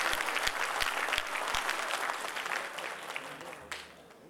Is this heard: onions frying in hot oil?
no